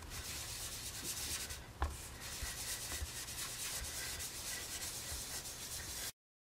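A sponge swirled across a paper card to blend ink, giving a steady soft scrubbing rub that runs close and quiet for about six seconds, with one brief tap near the start, then stops abruptly.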